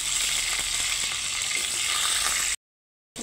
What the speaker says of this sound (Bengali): প্রথমে আলুটাকে ভেজে নেব।